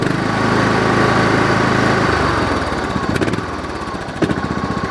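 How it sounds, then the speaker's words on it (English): A Kohler small engine runs loud and close, holding a steady drone before its pitch and rhythm shift as the throttle changes, sputtering slightly toward the end. "no bogging or anything when I go to rev it up"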